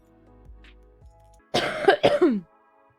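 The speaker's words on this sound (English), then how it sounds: "I forget that I have a cough" A burst of several harsh, close coughs after a quiet stretch with faint background tones.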